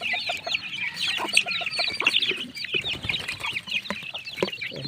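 Pet chicks clucking and peeping in a dense, steady chorus while feed is given, close and lively, along with small scratching and pecking sounds.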